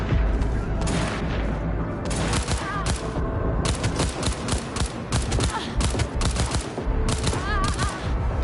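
Rapid bursts of gunfire crack and boom continuously in Cyberpunk 2077 on PS5, dense overlapping shots from enemies including a sniper, loud and close with brief gaps between volleys.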